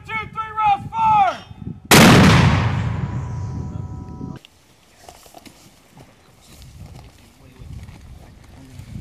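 A Fuji Viper 21.4 mortar fires a round at a range, one sharp, very loud blast that rings out and decays for a couple of seconds, preceded by shouted commands and followed by quiet outdoor background.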